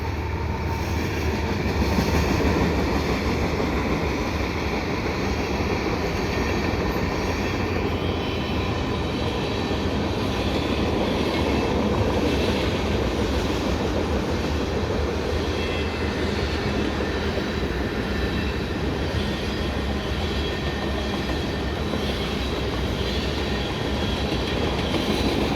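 A CN mixed freight train with an ES44 DPU locomotive rolling past at St John's Blvd, a loud, continuous rumble of wheels and cars with steady rhythmic clatter, close by and unbroken.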